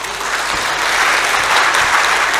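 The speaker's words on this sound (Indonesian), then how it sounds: "kita berikan tepuk tangan yang meriah untuk Bapak Ali Markus" An audience at an executive lecture applauds a speaker, a loud, sustained wash of clapping with no voices over it.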